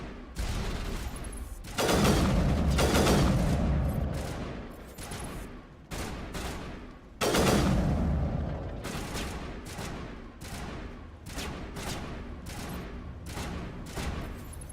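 Missile attacks in Mass Effect Legendary Edition, loud booming blasts and rolling explosions arriving in waves, followed by a run of sharper repeated impacts at a steady, slower pace.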